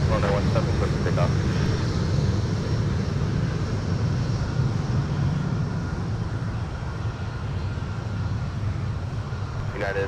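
A Sun Country airliner takes off from runway 17 at Minneapolis–Saint Paul airport, a steady, loud broadband engine roar that holds throughout while a radio voice talks over it.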